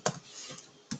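Keys clack on a computer keyboard as a password is typed, with a few distinct close clicks spaced unevenly over a quiet background.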